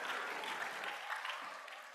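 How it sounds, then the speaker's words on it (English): Scholars in an audience applaud at a student competition event, a short burst of fairly faint, dense clapping that tapers slightly over two seconds. "Scholars, we give another round of applause."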